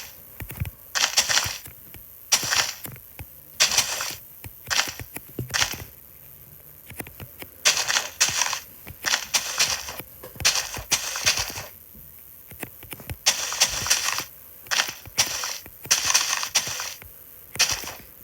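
Blocks being dug out and broken in a block-building video game, a steady series of short crunchy breaking bursts in quick repeated clusters, close and fairly loud with no talk.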